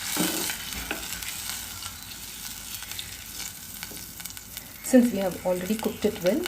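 Tamarind extract goes into an elephant yam gravy cooking on high heat, making a loud, close sizzle and bubbling with stirring, and someone talks over the last part.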